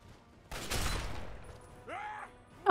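A burst of gunfire crackles in a war video game with the player's gun getting shot out of their hand, a loud broadband blast followed by a quieter rattle, a short rising mechanical tone and a sharp noise at the end.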